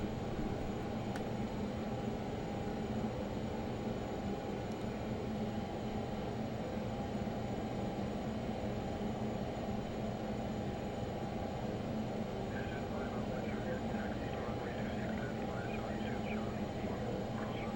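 A Learjet taxiing at Long Beach in a flight simulator game gives off a steady, droning engine hum with a faint tonal whine, unchanging throughout, while a voice murmurs faintly beneath it.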